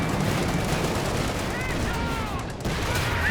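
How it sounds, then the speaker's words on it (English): Machine gun fire in a Company of Heroes 2 battle with Easy 8 tanks, continuous dense rattling bursts in a loud, busy mix with a voice talking over it. "Machine gun getting blasted away by these Easy 8s."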